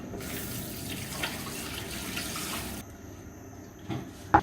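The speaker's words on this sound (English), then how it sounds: "I just fill it up with water and rinse it off." Tap water runs steadily into a cooking pot for a few seconds, then stops, followed by a couple of light clanks.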